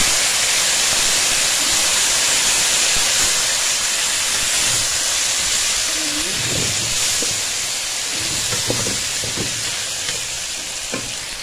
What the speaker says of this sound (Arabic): هبتدي بقى اضيف الرز عليها